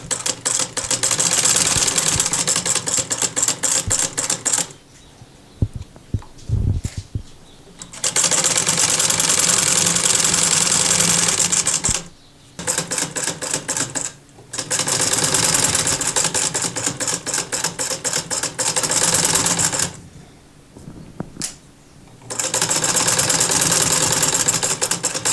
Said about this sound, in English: Now this lace, I'm going to sew it on just the same, sewing it across the bottom and again across the top.